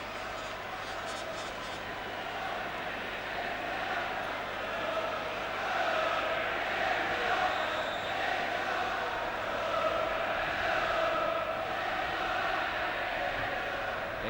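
Football crowd at a 1980 England v Norway World Cup qualifier chanting "England are back": a distant, swelling mass of voices that rises in the middle of the stretch under a broadcast commentator's talk.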